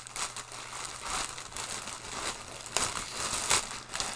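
Crinkly packaging around a football shirt rustled and pulled open up close, with irregular bursts of crackling and tearing.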